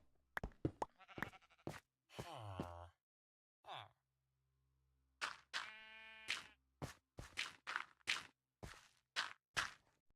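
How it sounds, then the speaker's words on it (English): Several sheep bleat in Minecraft, with separate cries spread across the clip. One long quavering bleat stands out among shorter ones, mixed with soft blocky footstep and knock sounds. "I think my sheep need nom grass."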